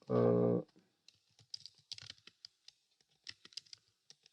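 A short hum opens, then quiet, uneven clicks of a computer keyboard as a text label is typed into circuit software, close and sparse.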